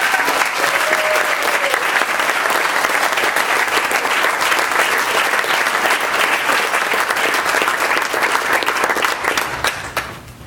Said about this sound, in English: One more round of applause to all of our Dream Scholars.